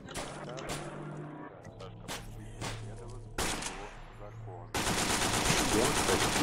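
Machine gun fire in a survival video game: rapid bursts of automatic shots, some clipped and loud, with a dense continuous volley near the end, over faint background game noise.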